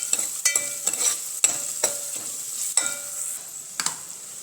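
Spices such as garlic chili powder, salt and turmeric stirred in a hot frying pan for a gram-flour curry: steady sizzling with repeated scraping strokes of a spoon, close up and alone.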